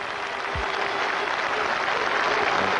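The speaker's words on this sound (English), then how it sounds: "Jimmy Adams and the whole of the West Indian team stand to applaud him" Steady applause from a cricket crowd, with the West Indies team on their feet, greeting Sherwin Campbell's century at a Zimbabwe–West Indies NatWest Series match; continuous broadband clapping with no break, and no voices over it.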